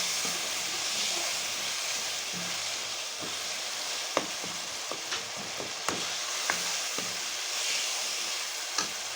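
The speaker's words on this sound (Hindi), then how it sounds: "चिकन को हम अच्छी तरह से मसाले में भून लेंगे" Chicken being fried in spices and ghee for a Punjabi aloo matar moongre dish, giving a steady close sizzle with occasional clinks and scrapes of stirring.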